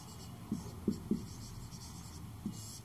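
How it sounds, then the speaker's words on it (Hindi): Pen or marker writing a word, probably on a board, as a few soft separate strokes over a quiet room hum. "तो यहाँ पे मैं एक वर्ड लिख रही हूँ, एस्टर्स।"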